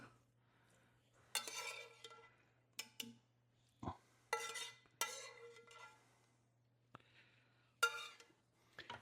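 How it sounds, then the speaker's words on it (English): Shrimp go into a pan for shrimp scampi off a slotted spoon, giving several short clinks and scraping stirs of metal against the pan over a low steady hum, with quiet gaps between the bursts. "Now we're going to add our shrimp, and I'm using a slotted spoon"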